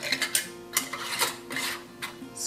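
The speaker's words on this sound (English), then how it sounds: "And then I put my clean lid on top, screw it on" A clean metal lid is screwed onto a glass jar of fermenting beet kvass, giving short, close rasping scrapes and rubs in irregular bursts.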